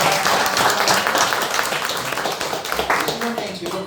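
Congregation applause for a bride and groom during a Sunday church service, a steady dense wash of clapping across the whole stretch with a voice speaking over it.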